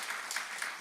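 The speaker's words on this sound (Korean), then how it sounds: "우리 박수로 한번 축복하실까요?" A Korean church congregation applauds to bless a member whose son just married, a short burst of many hands clapping at moderate loudness, somewhat distant and even.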